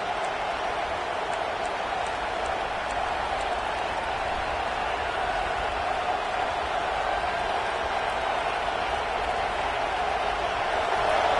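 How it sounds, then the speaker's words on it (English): A stadium crowd in a college football video game, Florida at USC, keeps up a steady, dense roar of cheering from start to finish with no breaks. "And this crowd coming to life here, trying to help the defense get a stop"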